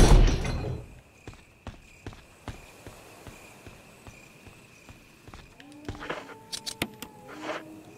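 In Resident Evil Remake, mechanical clunks and ratcheting clicks repeat in a steady rhythm, ending in a burst of metallic clanks and gurgling as a crank turns machinery raising water.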